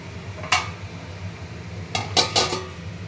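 A utensil clatters against a plate while cooked khesari greens are served, one sharp clink followed a little later by a quick cluster of three or four close, bright knocks.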